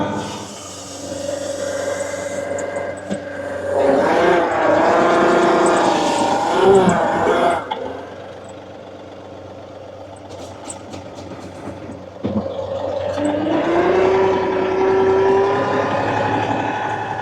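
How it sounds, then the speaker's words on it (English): Tractor engine idling and revving just above idle while spreading material with a bucket, a steady low harmonic drone that rises in pitch and loudness, drops back, then climbs again. "I'm running the tractor at idle, and just above idle"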